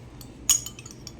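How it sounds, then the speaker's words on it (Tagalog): A single bright metallic clink, like a spoon tapping a dish, rings out once amid quiet, followed by a couple of faint softer taps. "Marunong silang magkutsara. Tumutunog-tunog pa."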